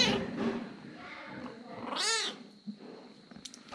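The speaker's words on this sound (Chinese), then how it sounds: "是不是小猫咪？" A small kitten gives a single clear, rising-and-falling meow midway through, near and soft, amid faint rustling and low background murmur.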